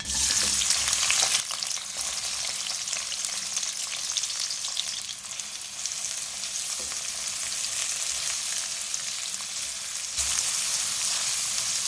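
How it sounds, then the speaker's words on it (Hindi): Three small sliced onions sizzle in hot oil in a home kitchen, a loud, close, continuous crackling hiss with brief shifts as they are stirred, no voices. "ऑयल गर्म हो गया, मैं इसमें प्याज डालूँगी।"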